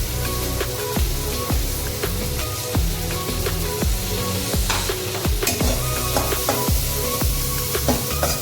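Grated coconut frying in a pan for eggplant curry: steady loud sizzling with repeated scraping and stirring clicks of a spoon against the pan, no voices.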